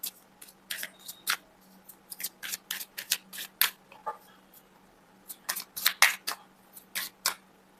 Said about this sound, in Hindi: जब तक मैं कार्ड को सफलिंग करती हूँ